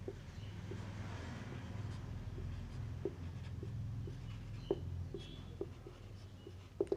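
A pen scratches faintly across paper while working through accounting entries, with soft intermittent strokes and small taps over a steady low room hum.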